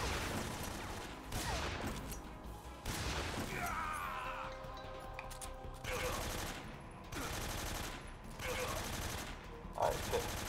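Tommy gun fire in Metal Gear Solid 3 during a boss fight, rapid bursts of automatic gunfire crackling in several rounds across the stretch, mixed with other game sounds.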